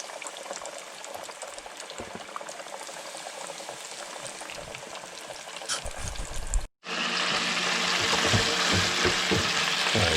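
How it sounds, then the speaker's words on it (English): Strips of sheepshead fish fry in hot oil with a dense, steady sizzle and popping that runs continuously, briefly cutting out before resuming louder and brighter. "the fish is frying up nicely"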